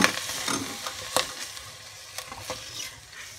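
Flour is stirred into a hot pan for a white pasta sauce, making close, uneven scraping and clinking strokes over a soft sizzle, with no talking.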